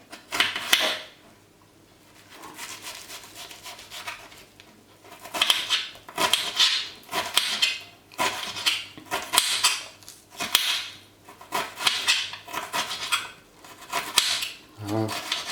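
A kitchen knife chops steadily on a cutting board while pumpkin and vegetables are prepared for a spelt risotto, producing rhythmic clusters of crisp close knocks that continue through the whole stretch.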